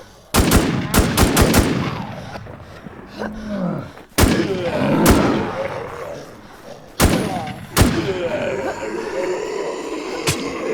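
Machine gun fire in the shooter game Warz Asia, sharp bursts of rapid shots spaced across the clip, each trailed by booming echoes and a low rumble.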